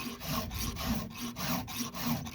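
A file rasps steadily across the cutting teeth of a Husqvarna 394xp chainsaw chain, making a close series of rhythmic gritty strokes about every half second, with no voices.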